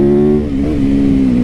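A sport bike's engine revs hard up close, loud and steady, with the pitch dipping slightly and then holding high through the short burst, with no talking.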